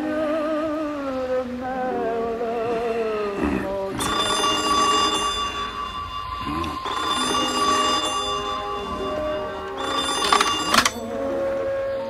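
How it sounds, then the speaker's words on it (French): A telephone rings in the animated film Porco Rosso, with two short bursts of ringing standing out over a film soundtrack of music and voices. "quand soudain, le téléphone sonne"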